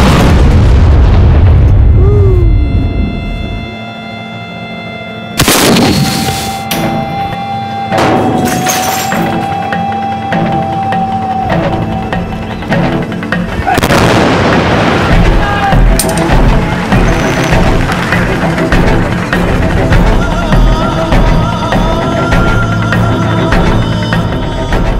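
A staged explosion on the set of the war film The Hurt Locker: one sudden, very loud blast, followed by a long, rumbling roar and the clatter of debris, with voices faintly under the din.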